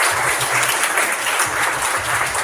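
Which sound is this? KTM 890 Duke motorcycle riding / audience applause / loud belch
audience applause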